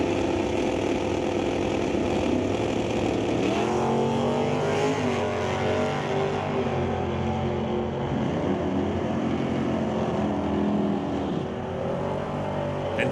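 A 1968 Ford Falcon drag racing a Camaro at an NHRA Northwest National Open Series event, with loud, sustained engine roar running for the whole stretch as the cars launch and run down the track.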